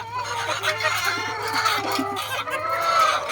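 A flock of roughly year-and-a-half-old farm chickens clucks continuously at close range, overlapping calls rising and falling over a low steady hum.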